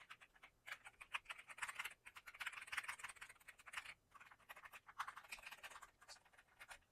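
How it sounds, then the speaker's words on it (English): Soft, steady keystrokes come from an RK Royal Kludge M87 wireless keyboard fitted with cream switches, typed close by at a quiet level in short bursts with small gaps. "this is going to be cream switches. So it's going to be a nice soft sound"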